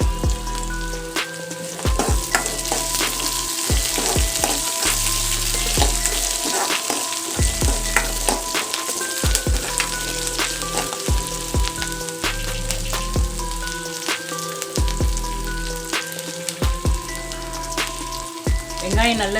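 Onions and curry leaves fry in oil for a Tamil yam tamarind curry, with a loud continuous crackling sizzle and occasional stirring under steady rhythmic background music.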